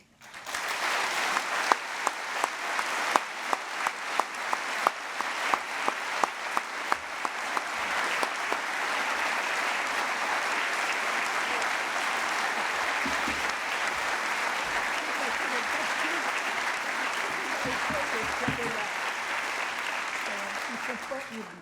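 Sustained audience applause welcoming a plenary speaker at a scientific conference, beginning with a few sharp claps and swelling into dense, steady clapping from a large crowd.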